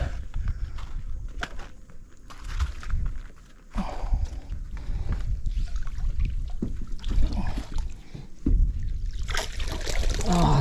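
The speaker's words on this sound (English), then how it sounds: "Pull this pot in." Crab pot hauled up out of a creek estuary, with close water splashes, trickles and dripping, knocks and rustles of the pot and line, and a bright rush of spilling water near the end.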